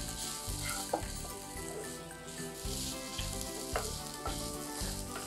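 Freshly grated coconut roasts in a pan alongside whole unpeeled garlic cloves, sizzling and crackling steadily up close, with intermittent scraping and stirring sounds throughout.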